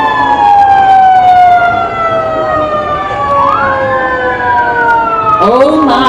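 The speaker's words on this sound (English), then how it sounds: "Oh my, the sirens are here." Wailing sirens from emergency vehicles at a July 4th parade in Willits, California, rising and falling continuously and loudly, with a second siren sweep joining near the end over a busy street background.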